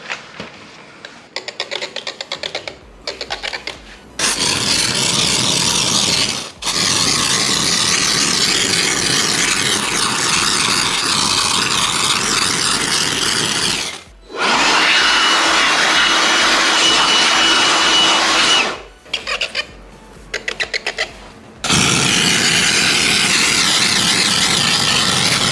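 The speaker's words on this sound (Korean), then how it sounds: "세척은 세제를 도포한 후에 이런 데 스팀으로 세척을 진행을 하는데" A steam cleaner blasts detergent-coated parts of an LG PuriCare 360 two-stage air purifier, giving a loud, steady hiss in several long bursts separated by short silences.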